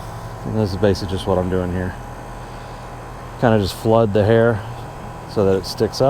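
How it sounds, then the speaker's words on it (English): A loud air conditioning unit hums and whooshes steadily in the background of an indoor taxidermy workspace, while someone talks over it throughout. "Sorry about the noise. That AC unit's a little loud."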